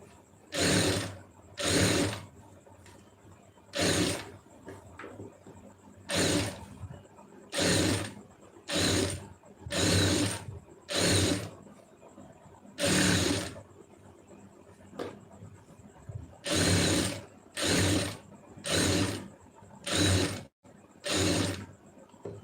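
A sewing machine stitches a lining blouse in a series of short, even bursts of whirring. Each run lasts about a second, with pauses between them, close by and fairly loud.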